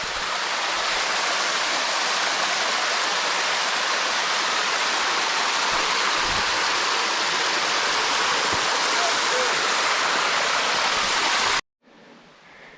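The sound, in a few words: small creek water cascade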